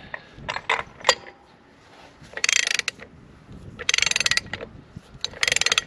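Tightening a castle nut on a Corken compressor piston during maintenance with a ratchet, a few metallic clicks and clanks, then three bursts of rapid ratchet clicking, close and clear with no talk.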